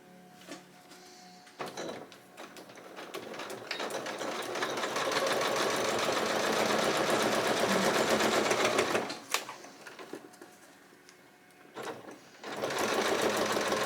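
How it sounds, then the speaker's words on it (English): A sewing machine stitches a paper-pieced quilt block, starting with short stuttering bursts, then a long, loud, steady whirring run up close, a pause, and another sustained run. "you'll sew right on this solid line right there"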